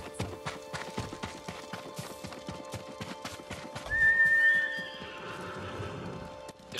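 Horse in the video game Ghost of Tsushima gives a loud whinny midway, set against a steady run of clip-clopping hooves that tap rhythmically throughout, with no talk over it.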